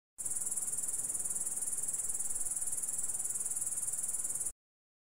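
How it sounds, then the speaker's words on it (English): A grasshopper chirps in a steady, continuous high-pitched buzz, loud and close throughout, with no voices. "Grasshopper."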